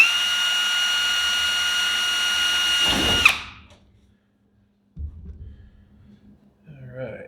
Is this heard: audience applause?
no